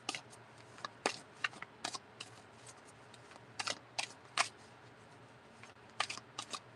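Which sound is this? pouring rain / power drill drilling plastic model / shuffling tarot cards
shuffling tarot cards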